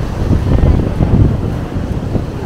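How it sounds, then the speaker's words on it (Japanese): Rough sea waves crash and wash against the coast of Hokkaido at Japan's easternmost point, under steady loud wind buffeting the microphone, with no clear break. "今日は波が荒いね"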